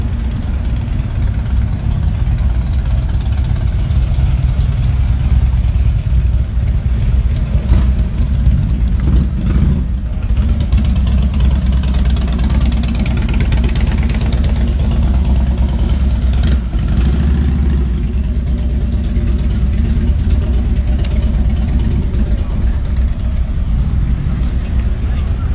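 A motorcycle engine runs steadily and loudly for the whole stretch, a continuous low mechanical drone on a street of luxury cars in Winnipeg, with a voice talking faintly underneath.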